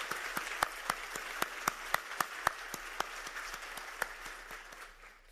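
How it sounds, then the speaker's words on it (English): Audience at a health agency conference applauds for an honoree, with a scattered run of distinct, sharp hand claps across the room rather than a dense roar. "please, another round of applause for Dr. Mallick"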